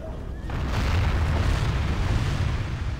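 An artillery shot and impact in Medieval Total War, a sudden deep rumbling boom that swells after a short pause and rolls on as a sustained low roar of debris and echo.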